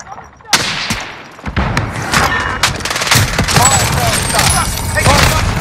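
Gunfire in the video game Call of Duty: Modern Warfare: loud, rapid bursts of automatic fire crackle almost without pause, mixed with sharp single shots and booms, under scattered in-game voices.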